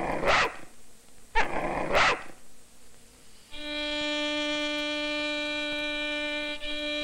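A dog gives three sharp, loud barks with growls between them, then a sustained steady musical tone with clear harmonics takes over for the remaining seconds.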